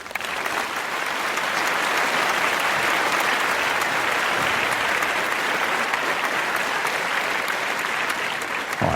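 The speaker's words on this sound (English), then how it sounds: "All right, that was almost like a golf clap." A studio audience gives a long, even round of polite, golf-style applause for a gun podcast's milestone, the clapping steady and moderately loud for several seconds before tapering at the end.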